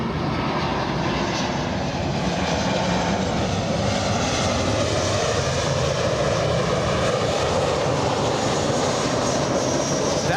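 An Embraer E175 jet accelerating as it exits the runway at Los Angeles International Airport, a loud, sustained engine roar that stays steady and close for the whole stretch, with no talking.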